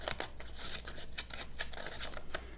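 The small scissors of a Flissa 15-in-1 multi-tool, a Leatherman Wave clone, snip through material in a few close, crisp, quiet cuts with short rasping strokes between them.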